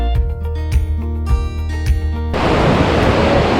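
Rushing water at the source of the Saraswati river near Mana village in the Badrinath area, a loud, steady broadband roar that takes over partway through, after a few seconds of tonal sounds.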